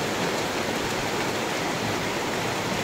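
Steady rain pours down outdoors in a dense, even hiss that stays loud and unbroken from start to finish, with no voices over it.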